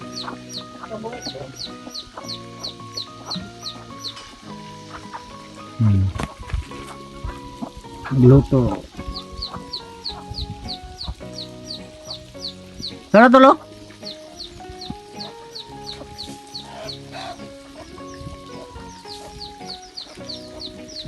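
Chickens cluck steadily on a mountain farm, close and continuous, with a few louder squawks along the way and people talking over them throughout.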